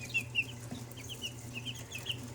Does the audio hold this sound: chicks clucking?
yes